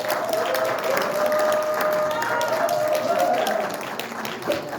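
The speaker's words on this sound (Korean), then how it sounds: "큰 박수 부탁드립니다" Audience applause at a Democratic Party regional political lecture as the guest speaker makes his entrance, dense clapping with a steady tone and faint voices mixed in.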